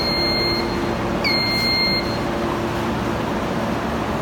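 A vacuum bullion casting machine for gold bars sounds its done alarm, two short bursts of high electronic beeping over a steady machine hum, then the hum continues alone.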